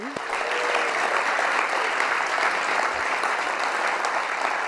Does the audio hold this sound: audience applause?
yes